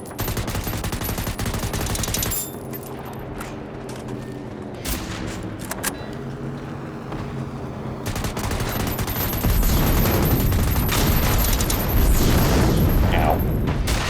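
Gunfire from weapons in the video game Generation Zero, loud sustained bursts and rapid volleys with booming hits, growing denser and heavier toward the end.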